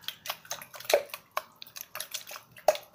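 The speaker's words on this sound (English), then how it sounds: "Sounds of moving water." Small splashes and drips of water, irregular bursts with brief pauses, close by and fairly quiet.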